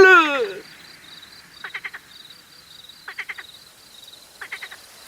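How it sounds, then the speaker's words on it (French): A small blue frog in a magical forest croaks in three evenly spaced bursts of rapid, raspy pulses, loud and close, after a brief whistling flourish at the start. "il aperçoit la petite grenouille bleue"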